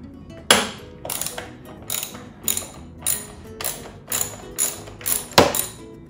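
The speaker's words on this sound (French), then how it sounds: "J'y vais avec une clé 12 millième ici et un ratchet 12 millième de ce côté-ci." A 12 mm ratchet loosens the fuel tank bolt on a Yamaha FJR1300 motorcycle, giving about nine bursts of close, crisp clicking in an even rhythm, each burst short and sharp with no talk.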